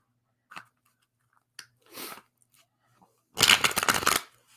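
A deck of cards is shuffled close by, a brief riffle and a few soft taps followed by a dense, crackling burst of shuffling lasting about a second, with no talk over it.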